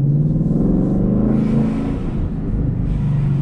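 Ford Mustang with a manual gearbox pulling away in first gear under throttle, a loud steady engine drone heard from inside the car, its pitch rising slightly and then settling, no speech.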